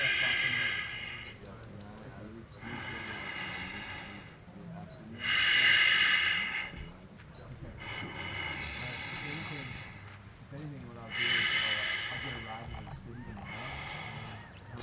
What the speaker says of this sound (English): 4 seconds of breathing.